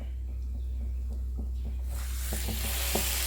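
French toast soaked in its batter is laid into a hot pan, bringing a sudden loud, hissing sizzle partway through after some quiet clinks and stirring.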